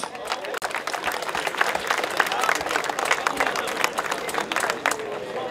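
A crowd at a women's doubles pétanque championship in Gruissan applauds the players, steady close clapping with a few cheers and background voices.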